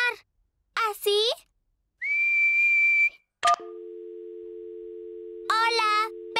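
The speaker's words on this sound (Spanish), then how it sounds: "¿qué es silbar? Tienes que juntar tus labios y soplar." A cartoon character whistles a single thin, steady note for about a second, followed by a sustained two-tone hum; other cartoon characters speak in short bursts before and after.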